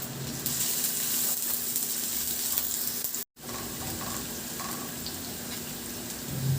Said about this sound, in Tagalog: Magpainit na ako ng mantika at igisa ko na yung bawang.